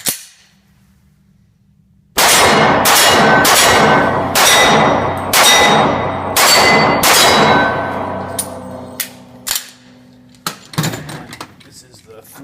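Loud, close pistol shots from a Glock 23 .40 caliber handgun at a shooting range, about eight sharp reports in an uneven rhythm with ringing decay, followed by a few fainter clanks and clicks after a quiet lead-in.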